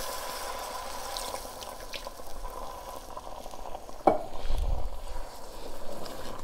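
Leftover water goes into a pot of cooking wheat genfo for Ethiopian porridge, a sudden clank followed by a short, low splashing gush over a steady bubbling simmer.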